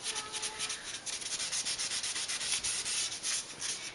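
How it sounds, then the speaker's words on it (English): Steady back-and-forth strokes sanding a mirror frame scrape rhythmically against the surface, close up and moderately loud, with no voices. "it takes a little while to do the sanding"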